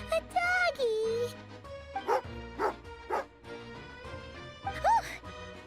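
The dog Tagarin in Genshin Impact barks and yips in short bursts with whiny, whimpering tones in between, close and fairly loud, with a character's speech alongside.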